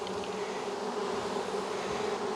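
Honey bees buzz around a beehive, a steady dense drone of many insects close by with no voices.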